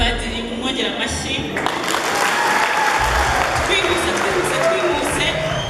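A large audience at a year-end concert at the Divine Mercy shrine in Kabuga applauds continuously, a dense, even clatter of many hands that carries on throughout at steady strength.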